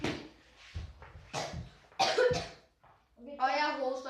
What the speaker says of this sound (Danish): Og jeg hoster lidt meget.